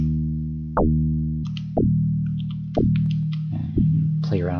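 Four FM-synthesized notes from an M8 Tracker, each starting with a bright, buzzy attack that decays toward a purer sine-like tone while keeping some harmonic color, repeating at a steady pace with no voices.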